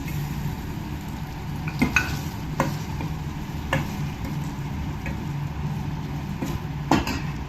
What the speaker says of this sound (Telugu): వేసి బాగా కలిపిన తర్వాత గుమ్మడికాయ ముక్కలు అందులో వేసేయాలండి